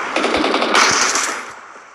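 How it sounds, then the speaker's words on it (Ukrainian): Automatic gunfire in the battle royale game PUBG: a rapid, close burst of shots that swells and then tails off over about two seconds. "там стріляють"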